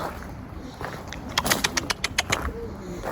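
Tumbler pigeons let out of their coop, with a short burst of rapid wing claps and flutter as they take off, set against a quiet outdoor background.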